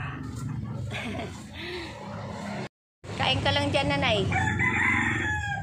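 Roosters crow loudly nearby, several calls overlapping, while someone speaks briefly; a short gap of silence interrupts midway.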